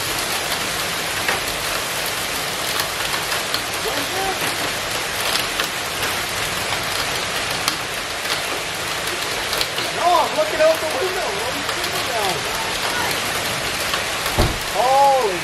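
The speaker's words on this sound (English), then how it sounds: "That's a fucking hailstorm. It's still a hailstorm." Dense, steady hammering of hail or heavy precipitation on surfaces, loud and continuous, with faint voices briefly audible near the end.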